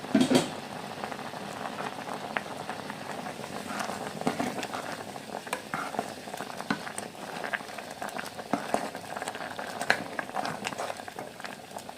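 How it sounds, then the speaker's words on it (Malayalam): Lentil dal bubbles at a rolling boil in a pot on the stove, a steady close patter of popping bubbles with scattered louder pops throughout. "പരിപ്പ് കയറി നന്നായിട്ട് തിളച്ചു കേട്ടോ"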